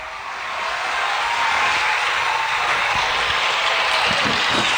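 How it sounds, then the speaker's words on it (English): Steady, dense applause from a studio audience on a radio show, rising quickly to a sustained wash of clapping that stays loud and even throughout, with no voices over it. "How about a smattering of applause for my executive producer, Sven Sandberg?"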